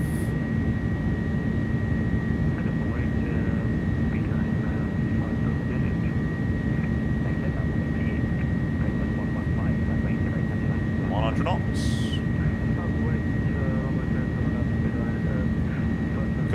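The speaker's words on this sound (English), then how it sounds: "God, this is going to be a long takeoff roll." Airbus A300 jet on its takeoff roll with engines at takeoff thrust, a loud, steady roar heard from the cockpit, with brief crew voices over it.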